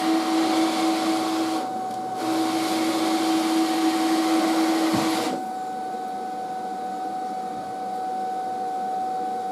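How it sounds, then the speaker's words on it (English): A Cricut Venture cutting machine runs its vacuum to hold the cutting mat in place, producing a loud, steady whooshing hum with a constant tonal whine. The sound dips briefly once and then settles lower and slightly quieter after a change partway through. "the sound that you hear is the vacuum that's holding the mat in place"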